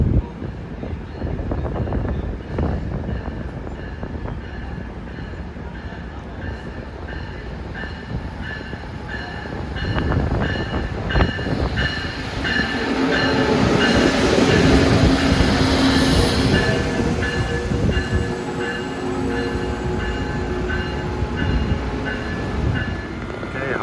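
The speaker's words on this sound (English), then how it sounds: "coming in now at 10:05 is Amtrak train 79, the Carolinian, en route from New York to Charlotte" Amtrak train 79, the Carolinian, running from New York to Charlotte on the old B&P Northeast Corridor between Baltimore and Washington, rumbles past trackside with rising roar, steady wheel clatter and squeal, loud and continuous for over twenty seconds.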